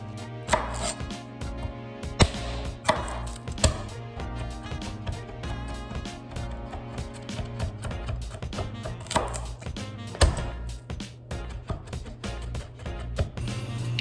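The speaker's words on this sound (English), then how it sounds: "And then we're going to smash and slice 3 or 4 garlic cloves." Garlic cloves being smashed and sliced with a knife on a cutting board, a steady run of quick, close chopping taps with a few heavier smacks, no talking.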